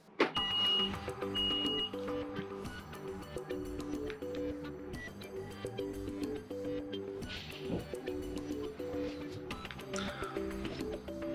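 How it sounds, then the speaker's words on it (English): Power windows on a 2017 Alfa Romeo Stelvio close via the key fob, making a faint, steady electric motor hum with a soft mechanical whir that runs for about eleven seconds. "how to close windows using the key fob"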